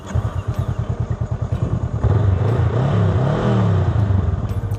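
A Honda Rebel 500 motorcycle with a stock exhaust idles in a loud, lumpy pulse, then revs up and pulls away, the engine note rising and holding close by.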